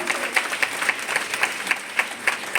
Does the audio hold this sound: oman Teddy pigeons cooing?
no